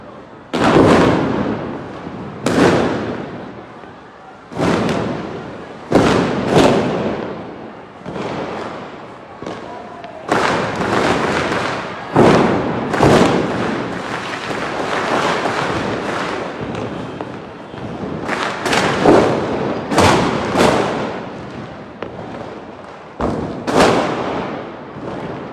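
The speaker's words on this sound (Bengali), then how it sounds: "আতশবাজির শব্দে এই মুহূর্তে পুরো শহর ছেয়ে গেছে" New Year fireworks and firecrackers bursting over Dhaka city, a long series of loud booming explosions and crackling pops at irregular intervals, some clustered in rapid volleys, echoing across the rooftops.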